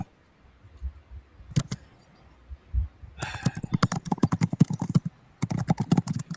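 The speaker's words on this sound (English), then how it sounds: "when he types, he beats his keys into the microphone" Rapid clattering keystrokes on a laptop keyboard resting on someone's lap, struck hard right beside the microphone, arriving in dense bursts after a few isolated taps.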